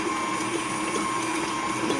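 Sunbeam stand mixer with the flat beater on, creaming butter: a steady, close motor whine with a busy mechanical churn that holds even from start to end, with no talk.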